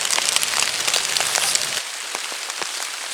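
Heavy, steady rain pours down in a forest, a dense hiss with scattered sharper drops striking nearby surfaces, with no voices.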